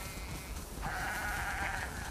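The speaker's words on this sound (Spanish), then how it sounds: "Tenemos demasiadas ovejas." Sheep bleating in the video game The Last of Us Part II, with a single drawn-out bleat rising over a steady background hiss and no speech.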